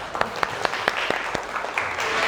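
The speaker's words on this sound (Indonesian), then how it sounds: "Oke, tepuk tangan untuk kelompok 5." Applause for a student group at the close of a teacher-training class presentation, a short patter of scattered claps over steady room noise, a handful of distinct hand claps standing out.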